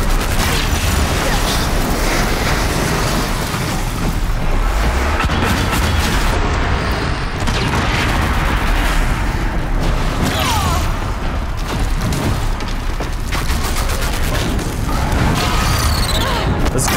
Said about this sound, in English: This cannon takes up so long to charge up a nice attack.